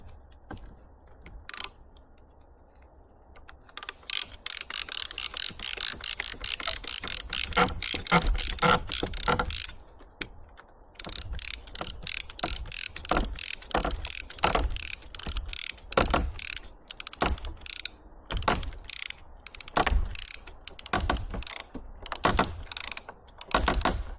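A ratchet on a load binder is cranked tight at a sawmill, giving rapid series of sharp metallic clicks in bursts with a brief pause, loud and close with no talking.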